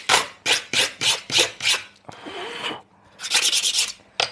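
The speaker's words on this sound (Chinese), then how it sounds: "这会儿拿砂纸打磨它" Hydraulic brake pads are sanded by hand with sandpaper: half a dozen quick, even rasping strokes, then a longer sustained rub, then a fast burst of short scrapes, all close and clear.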